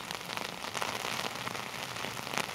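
Dense rainfall pelts an umbrella overhead in a heavy rainstorm in Norwich, Connecticut, a close, steady crackling patter with small bursts of heavier drops and no speech.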